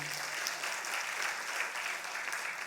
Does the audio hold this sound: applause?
yes